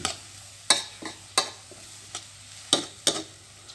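Minced pork being stir-fried in a pan, with a spatula scraping and tossing in sharp, irregular strokes over a faint steady sizzle, close and alone without talk.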